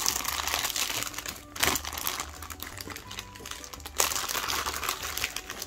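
Plastic packaging crinkles close up as a bag nested inside another bag is pulled open, with irregular rustles and two sharper crackling bursts, fairly quiet overall.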